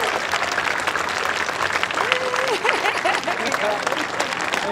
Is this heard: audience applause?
yes